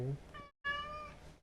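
A video game cat in Kingdom Come: Deliverance II meows twice in quick succession, a short call then a longer drawn-out one after a brief silence, fairly close and clear.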